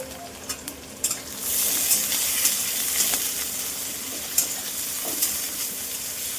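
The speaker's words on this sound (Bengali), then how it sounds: "বাস, এটা ভাজা ভাজা হতে থাক, তারপর টমেটো দিয়ে দেবো।" Green chillies fry in a hot pan with a steady, loud sizzle that swells after a second or so and carries on to the end, broken by a few light clinks of stirring.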